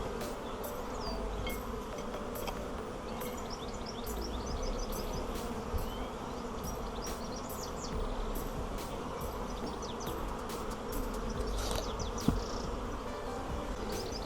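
Dense, steady buzzing of a crowded honey bee hive packed with brood, a continuous close drone with individual bees whining past throughout, no talking.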